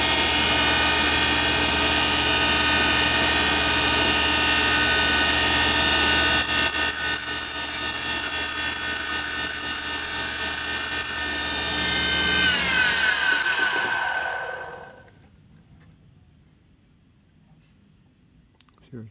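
A stone grinds a valve seat in a 1000cc Ironhead Sportster motorcycle engine under rebuild, a loud, steady, high whine from the power tool that stutters briefly, then spins down and stops, leaving quiet.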